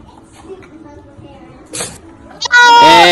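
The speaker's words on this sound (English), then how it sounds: "That's a scared kitty." A frightened cat lets out a loud, strained meow that bursts in near the end, after a quieter stretch of indistinct background sound and a brief short noise.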